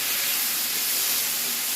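Firm vegetables sautéing in a hot pan for Philly cheesesteak, a dense, steady sizzle heard close and alone.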